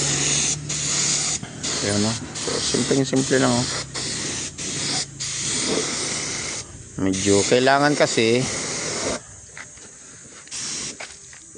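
Bursts of spray paint hiss in short and longer passes over the body panels of a Kawasaki TMX155 motorcycle during a repaint, broken by pauses while someone talks between and over them.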